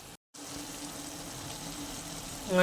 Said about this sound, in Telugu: ఇప్పుడు కొంచెం వాటర్ యాడ్ చేసేసుకుందాం